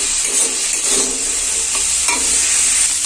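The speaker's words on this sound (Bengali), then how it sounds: "তো দেখো সবজিগুলো আমার পুরো ভাজা হয়ে গেছে" Mixed vegetables with broccoli stir-frying in a pan for chicken chow mein. There is a steady close sizzle with repeated scraping stirs, and no voices.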